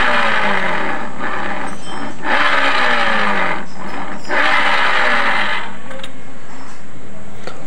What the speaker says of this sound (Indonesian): bunyi kasar di bagian CVT motor Matic Beat FA ini berada di bagian bearing puli belakangnya